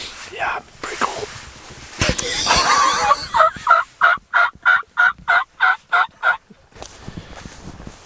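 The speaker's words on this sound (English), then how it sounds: "The turkeys are talking, so that's good." Wild turkeys gobble during a late-season December hunt in Nebraska, a rapid run of about ten loud, evenly spaced gobbling pulses following some rustling and brief distant calls.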